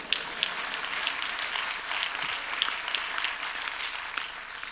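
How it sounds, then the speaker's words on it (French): An audience in a cinema hall applauds at a film festival opening ceremony, sustained dense clapping with scattered sharper claps, no voices. "On peut applaudir Guadalupe encore plus."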